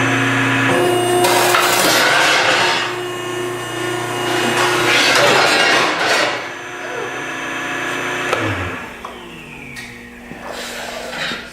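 Metal being cut with a power tool to make a piece for a Kubota B Series bucket spill guard: loud, harsh grinding and screeching in long surges, fading toward the end with some clatter.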